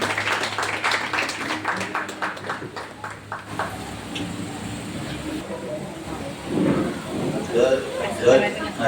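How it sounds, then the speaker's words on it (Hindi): Applause from a church congregation at a Sunday sermon, with a burst of clapping at the start that thins into a low murmur of room noise and rustling. "आइए तारीफ करेंगे जोरदार ताली के साथ।"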